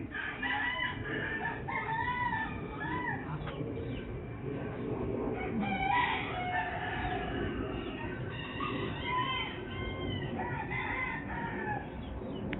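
Many chickens clucking and crowing together, a busy continuous chorus of hens and roosters close by, with no one speaking.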